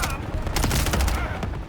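Video game gunfire rattles in rapid overlapping bursts for nearly two seconds, steady and loud, with a voice talking faintly beneath the shots.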